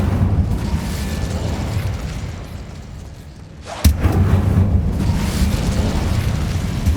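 Incendio fire spell cast in Hogwarts Legacy, a sudden sharp burst at mid-clip followed by a loud, sustained roaring rush over a dense rumbling game background.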